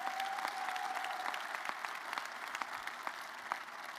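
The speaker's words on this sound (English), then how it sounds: "How about a round of applause for Gary?" Steady round of applause from an audience at a Maryland men's basketball introductory press conference, moderately distant and even throughout, with a few sharper claps standing out.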